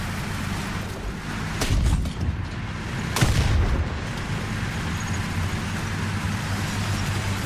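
Two heavy cannon blasts from tanks in the War Thunder combat game, including a small M5 light tank and a Lago I medium tank, boom out about a second apart over a steady rumble of engines and battlefield noise.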